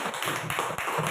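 Audience applause at an Indonesian school gathering on communicating a primary school's vision, a dense steady patter of many hands clapping close by with no talk.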